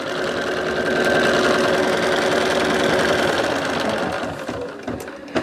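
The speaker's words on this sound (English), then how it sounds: "I'm stitching the hearts chenille basting lines" An embroidery machine stitches chenille basting lines around heart shapes on fabric for a pieced lumbar pillow. Its close, steady mechanical whirring and rapid needle chatter run continuously, then falter and slow near the end.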